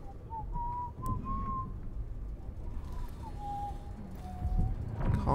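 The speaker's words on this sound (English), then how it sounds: "Who's whistling?" Whistled tune in the video game Dishonored 2, heard in the Lower Aventa District: a thin melodic whistle drifting in at moderate distance over low ambient game noise, several short phrases rising and falling.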